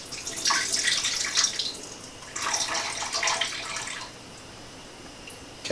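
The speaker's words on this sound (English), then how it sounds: "So we go over to the sink. Pour off the juice." Juice from a can of chicken is poured off into a sink, a hissing splash of liquid in two bursts with a short pause between, close and fairly loud, then quieting.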